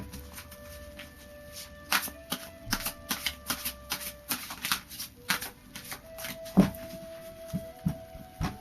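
Tarot cards from the Psychic Tarot deck are shuffled by hand in a series of quick, crisp riffling and slapping bursts at close range, with no talking.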